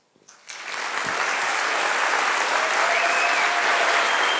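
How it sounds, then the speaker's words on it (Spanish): An audience breaks into applause after a talk: a few scattered claps quickly swell into a full, sustained roar of clapping that holds loud and steady to the end. "Más grande el aplauso para Eduardo"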